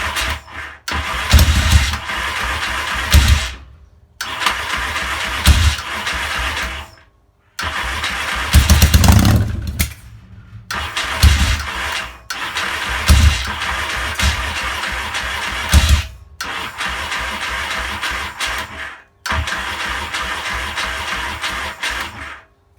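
A Yamaha XS650 motorcycle that is running poorly cranks and catches again and again in loud bursts, popping and sputtering as it backfires, with short silent gaps between attempts, close to the mic.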